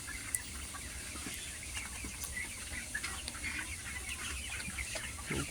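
Chickens on a small farm cluck softly at a distance over a steady background hum, with scattered faint chirps and no talk.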